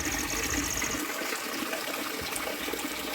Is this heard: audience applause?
no